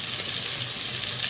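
Medium-cut potatoes seasoned with salt and turmeric fry in hot oil for a Bengali fish head dish, producing a short, steady, close hiss of sizzling.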